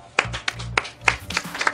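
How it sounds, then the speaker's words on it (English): A few people clap in short, scattered bursts, several sharp separate hand claps rather than full applause, close and fairly loud with low rumbling under them. "Let's all start clapping"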